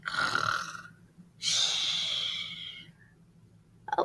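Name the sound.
imitated snoring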